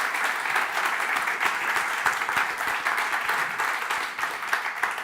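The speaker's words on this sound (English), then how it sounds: "So a huge round of applause for Valeria." A conference audience applauds a speaker at a Python and AI talk, with dense, sustained clapping throughout and a brief dip in intensity near the end.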